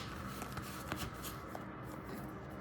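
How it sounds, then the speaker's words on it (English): Tarot cards being shuffled by hand, a steady close papery riffling and shuffling texture that runs alone and continuously without pause. "give one more shake, one more shuffle."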